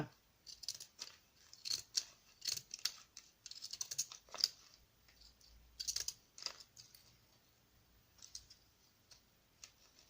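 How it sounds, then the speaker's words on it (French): Scissors snip through a tough craft material in a rapid series of crisp, close cuts, irregular in rhythm with brief pauses, quiet and without talk. "c'est difficile à découper, soit bah, c'est ma paire de ciseaux qui commence"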